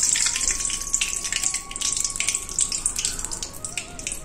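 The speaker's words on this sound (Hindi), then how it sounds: "अब इसमें डाल देंगे घी।" Cow ghee hits a hot pan while making halwa prasad, a bright steady crackling sizzle with a faint tonal hum underneath and no talking.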